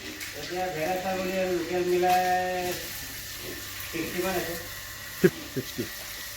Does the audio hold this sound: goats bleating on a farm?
yes